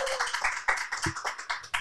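Brief applause for a guest trova singer in a small studio setting, a handful of people clapping in short uneven bursts at close range, with no talk over it.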